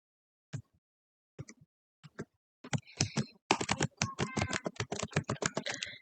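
Keyboard typing to enter an email and password at a sign-in prompt, a few isolated keystrokes and then a quick, dense run of close clicking keys.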